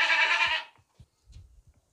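A healthy, large goat bleats loudly in one sustained cry at a busy livestock market, followed by faint scuffling and low background noise.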